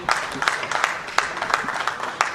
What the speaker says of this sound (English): Applause to Prince Oyewale